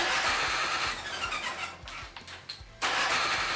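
The Oka car engine fitted in a buggy cranks after a carburetor rebuild, with a starter whirring in rapid rhythmic pulses that fail to catch. The sound is loud and close, with a brief dip before the cranking resumes.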